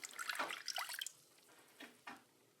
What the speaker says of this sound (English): let's add this water